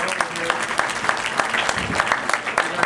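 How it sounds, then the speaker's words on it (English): Audience applause at a speaking event in Mt. Vernon, Illinois: steady, dense clapping from a crowd, fairly close and continuous for a few seconds with no talking over it. "give her a nice round of applause."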